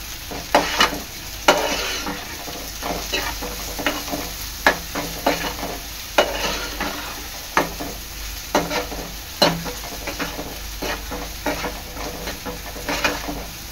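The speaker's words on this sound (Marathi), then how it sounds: "यामध्ये टाकणार आहे मी चवीनुसार मीठ, चांगलं मिक्स करून घ्यायचं आहे।" Salt being stirred into an octopus masala in a pan: repeated scraping strokes of a spoon through the thick, gently sizzling mixture, in an uneven rhythm close up.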